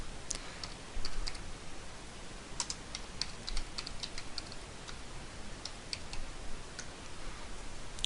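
Computer keyboard typing, quiet scattered key clicks in irregular bursts over low background hiss.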